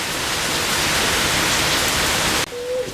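Heavy rain falls on a village as a dense, loud, steady hiss. The downpour cuts off abruptly near the end, leaving a quieter patch with a brief tone.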